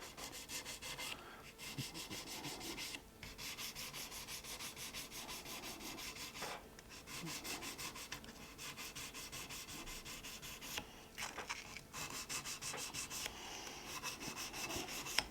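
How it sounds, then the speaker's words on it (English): Rolled sandpaper rubs steadily across the frets of a guitar neck, a continuous close, dry scratching with short pauses between strokes as each fret is worked in turn. "after each fret I'm going to slightly unroll the sandpaper, so I have a fresh section of sandpaper for each fret"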